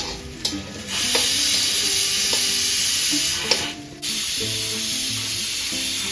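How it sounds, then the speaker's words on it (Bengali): A loud, steady hiss of steam rushing out of a pressure cooker, continuing for several seconds with a brief dip partway through. "এদিকে আমার সিটি দিয়ে দিচ্ছে কুকার প্রেশার কুকারে"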